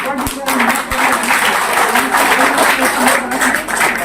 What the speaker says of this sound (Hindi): ताली बजाते रहिएगा बीच बीच